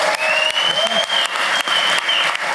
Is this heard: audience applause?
yes